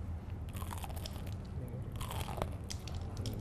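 Meat cooked in an air fryer without oil gets bitten, giving a loud close crunch followed by crisp chewing crunches that come and go without talk.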